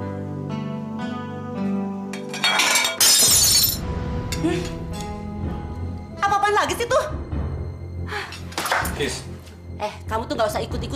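Glass shatters loudly and close with a bright crash and scattering shards, followed by more clattering breakage, amid shouted voices talking and crying out over the noise.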